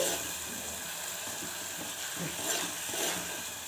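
Green chili paste fries in oil and gets stirred for a fresh pigeon pea curry, producing a constant close hiss with faint scraping from the stirring spoon underneath.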